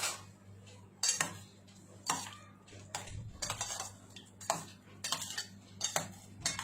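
A spoon clinking and scraping in a bowl while mixing yogurt for dahi vada with coriander, cumin and salt, a series of sharp, close metallic taps and stirring scrapes at an irregular rhythm.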